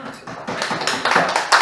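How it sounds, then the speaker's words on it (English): A small audience claps for a performer at The Moat House, scattered hand claps quickly building into fuller applause that grows louder over a couple of seconds. "Can I have a round of applause for Michael"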